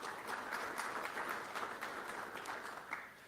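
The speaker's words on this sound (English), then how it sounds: "Let's give her a round of applause." Forum audience applauding in a hall as a speaker representing Phoenix Raceway and NASCAR is welcomed, a steady wash of many hands clapping at moderate distance for the whole stretch without pause.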